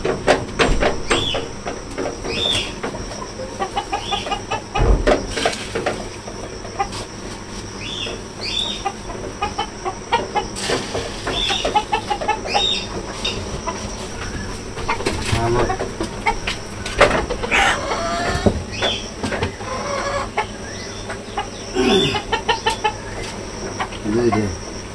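Village chickens clucking and a rooster calling near a home, repeated clucks scattered over a steady background with other outdoor noise and occasional faint voices.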